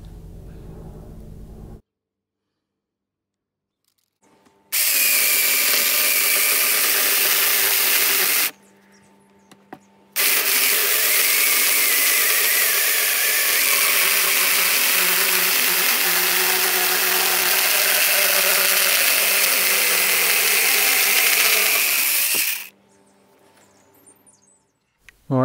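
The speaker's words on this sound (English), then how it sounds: "Alright, here's it cutting through a piece of oak." An 8-inch cordless chainsaw running on a Makita battery cuts through oak in two loud, steady bursts, a short cut and then a longer sustained one, separated by a brief pause at idle.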